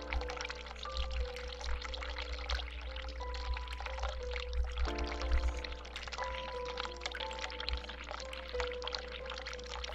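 Hot water tap running in a bathroom in the horror game The Cat Lady, a steady pouring stream that continues throughout over a low hum and faint musical tones.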